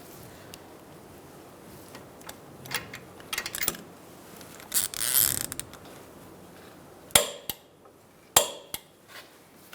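A ratchet clicks in short bursts while a ball joint nut is tightened on a 2012-2017 Hyundai Accent 1.6L, with scattered metallic taps and rattles, close but faint.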